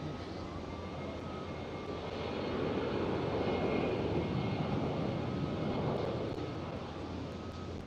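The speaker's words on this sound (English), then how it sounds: "And the KLM Cityhopper SkyTeam livery, it's at E190 as well, is going." A KLM Cityhopper Embraer E190 jet in SkyTeam livery departs Schiphol in Amsterdam, its distant engine roar swelling gradually to a peak midway, then easing slightly while staying steady.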